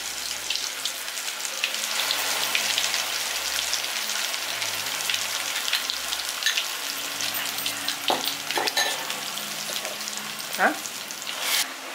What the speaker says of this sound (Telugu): ఈ అల్లం వెల్లుల్లి పేస్ట్ పచ్చివాసన పోయేంత వరకు వేయించుకోవాలి